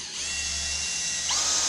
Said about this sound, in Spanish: Ahora sí voy a colocar el tornillo de 2 pulgadas en las perforaciones que acabo de hacer.